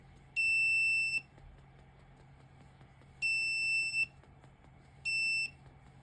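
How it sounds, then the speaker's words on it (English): A buzzer driven by a Raspberry Pi Pico with an ultrasonic sensor sounds three shrill, steady beeps at uneven intervals over a quiet background hum, with no voices. "buzz the buzzer, providing us with 2 levels of warning of increasing urgency"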